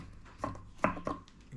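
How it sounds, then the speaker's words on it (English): A knife finely chopping on a board while preparing sweet and sour pork spare ribs, a few quick, soft taps and brief clusters of cuts, close and fairly quiet. "Finely chop, like that."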